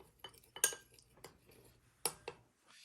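A spoon stirs black pepper into juice in a dish for a cough remedy, giving several sharp metallic clinks against the dish at irregular intervals, close and fairly quiet, with soft scraping between them.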